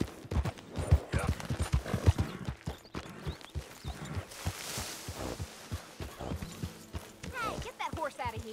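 Hooves clip-clopping in the Red Dead Redemption 2 video game, a rhythmic run of thudding steps alongside game ambience and voices talking.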